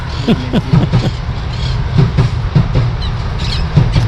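A Sarmiento line electric commuter train rolls past close by, loud and steady, with rhythmic clacking of wheels over rail joints and a faint squeal.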